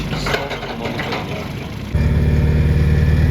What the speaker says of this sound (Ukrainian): Наступний варіант виїжджає Kubota GB 110, двохциліндровий трактор 10 кінських сил.